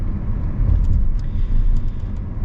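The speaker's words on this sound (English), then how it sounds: "One thing about EVs that's nice is how smooth the acceleration is." A 2025 Subaru Solterra electric car accelerates, giving a steady, loud, continuous roar of road and motor noise with no speech.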